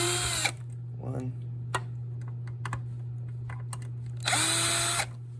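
A power drill unscrews two screws from the circuit board of a BBQ blower, with two short high whirring bursts at the start and end, and light tapping and handling noises in between under a constant low hum.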